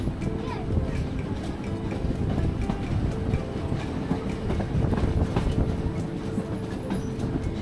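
A steam train runs on rails near Mariembourg, Belgium, giving a steady, close rumble with rhythmic clicking from the wheels on the track, and it continues throughout.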